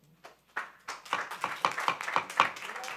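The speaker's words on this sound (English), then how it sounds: "Applause, please." Scattered clapping at a city council meeting, a handful of separate claps that thicken into a brief, moderately close round of applause from a small audience.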